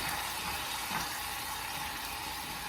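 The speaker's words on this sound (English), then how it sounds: "that's sizzling" Minced garlic frying in a hot pan, a steady close hiss and crackle of sizzling oil that holds evenly throughout with no talking.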